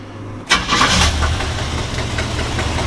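A 1975 Chevrolet C30 truck's V8 cranks and fires with Flowmaster exhaust, a brief starter whirr after a short pause, then a loud burst settling into a rumbling idle.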